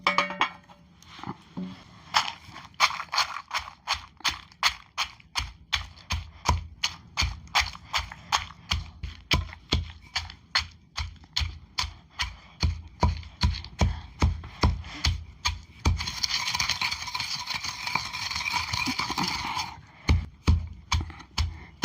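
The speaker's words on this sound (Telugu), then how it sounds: "ఇది ఇప్పుడు రోట్లు వేసుకొని నూరుకుందాము. ఇక ముందు మిరపకాయలు నూరుకుందాము." Steady rhythmic pounding of a stone pestle grinding chillies and chennangi leaves in a stone mortar, sharp close knocks repeating about twice a second for the whole stretch, with a scraping rub near the end.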